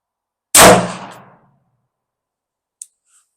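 A single sharp shot from an AMT Auto Mag II semi-automatic pistol chambered in .22 WMR, loud and close, with a ringing decay lasting about a second, then a faint metallic click.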